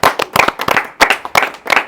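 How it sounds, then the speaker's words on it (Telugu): Festival audience at a Ganesh utsav celebration clapping in a quick, loud burst of close handclaps, rhythmic and uneven, ending in short clustered claps with no talk over them. "సో అందరు బాబాయ్కి మళ్ళీ ఒకసారి క్లాప్స్ కొట్టాలి."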